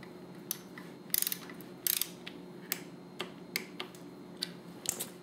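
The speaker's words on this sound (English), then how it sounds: "and torque it down." A torque wrench ratchets as it tightens the transmission drain plug on a Harley-Davidson Softail Twin-Cam, giving a run of sharp, close clicks in short bursts over a low steady hum.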